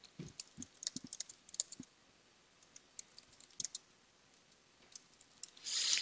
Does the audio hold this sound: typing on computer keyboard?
yes